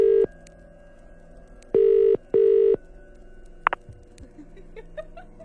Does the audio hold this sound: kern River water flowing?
no